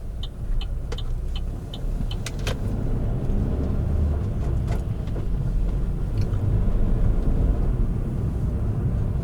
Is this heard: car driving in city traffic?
yes